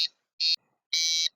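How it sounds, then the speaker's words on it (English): A fire alarm emulated by an MSP432 microcontroller system sounds as three shrill electronic beeps, two short and one longer, loud and close with silence between them. "Now you hear a fire alarm through the system"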